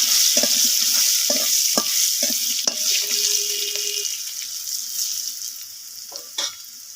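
Chicken pieces seasoned with turmeric, alongside potatoes, drop into hot oil and fry with a loud, steady sizzle, punctuated by a few thumps and stirring knocks near the start.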